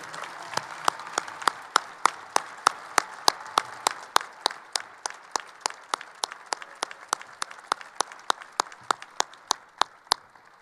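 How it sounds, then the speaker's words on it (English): Sparse, steady handclaps at a 2013 high school graduation ceremony, a few people clapping at a regular pace for about ten seconds, each clap sharp and distinct against a quiet hall. "Let's give a round of applause to our awesome athletic director, Mr. Rick Johnson"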